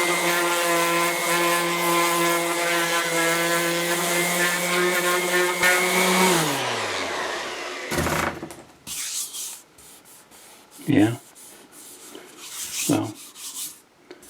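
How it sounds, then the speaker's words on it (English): An orbital sander with 80-grit paper works a Mercedes W126 S-Class wheel, a steady, loud rubbing whir for about six seconds before it spins down, then quiet scrapes and a few brief voice sounds. "Okay, I've got everything I can get with the orbital sander."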